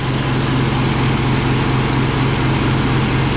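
Engine of a welder running its big alternator to charge two batteries, a loud, steady, close droning hum with an even low pulsing throb and no pauses.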